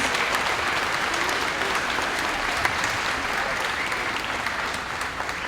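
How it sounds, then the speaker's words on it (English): Audience at a 5th grade moving up ceremony applauding a performance, a dense, even wash of clapping that holds steady throughout and eases slightly toward the end. "think we should give them one more round of applause for that beautiful performance."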